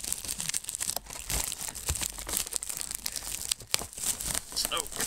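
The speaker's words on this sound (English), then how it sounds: "So, let's open it. Cellophane off." Cellophane wrap being torn and peeled off a Forces of Nature Pokémon card box, loud close crinkling and tearing that continues for several seconds.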